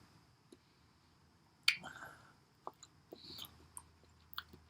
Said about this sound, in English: I should be chewing my food better too.